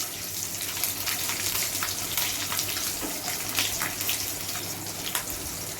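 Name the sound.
garlic and green chillies sautéing in hot oil with cumin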